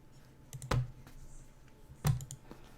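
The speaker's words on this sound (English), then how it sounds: "don't touch the keyboard" A computer keyboard gets a few scattered, distinct key clicks, two of them noticeably louder, in a quiet room with no talking.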